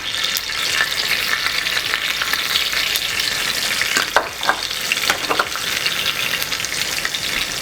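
Cumin and mustard seeds frying in about 50 to 70 ml of hot oil, a steady close crackling sizzle with a few sharper pops and stirring scrapes near the end, no voices.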